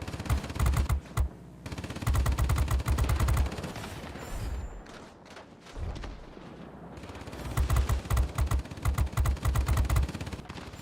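Rapid machine gun bursts from a rear gunner's turret in the World of Warplanes aircraft combat game, loud and sustained in long streams at the start and end with a rumbling lull of engine and explosions between.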